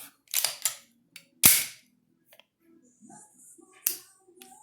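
Dry-fire of a Glock pistol fitted with a Timney replacement trigger: a few sharp, close clicks of the trigger breaking and resetting, with a quieter gap of faint handling noise between them.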